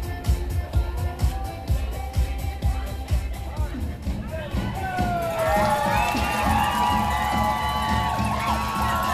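Spectators cheer and shout encouragement as children race at an outdoor event, rhythmic thumps and claps giving way to a swell of whoops and excited high voices near and around the listener.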